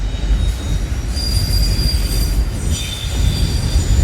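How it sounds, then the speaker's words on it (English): A freight train hauled by a BNSF locomotive rolls past close by in Durand, its wheels squealing steadily in high sustained tones over a rumbling low roar that lasts throughout. "There's a BNSF locomotive."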